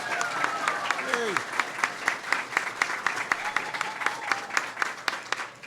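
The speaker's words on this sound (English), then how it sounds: "Give him a big round of applause" An audience of embassy staff applauds in a steady, sustained round of clapping with sharp individual claps standing out, while a voice speaks over it at the start.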